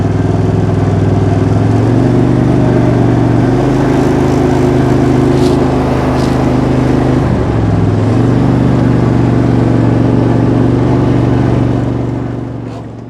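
A Husqvarna riding mower engine runs steadily just after starting, a loud, close, even drone with slight shifts in pitch before fading at the end.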